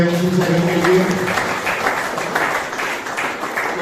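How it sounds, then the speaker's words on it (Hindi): Applause from an audience of men at an Independence Day celebration in a rehabilitation centre, a steady wash of clapping throughout with a voice speaking over the start. "एक बार और जोरदार तालियां"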